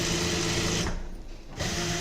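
A sewing machine stitches piping onto a kurti, its fast, steady motor hum running close and even, pausing briefly midway before resuming.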